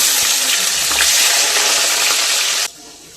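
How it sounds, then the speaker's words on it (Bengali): Carrot frying in hot oil for Afghani pulao, a loud continuous close sizzle and hiss that cuts off abruptly near the end, leaving quieter background. "এরপরে আমি এই গাজরটা ভেজে নেব"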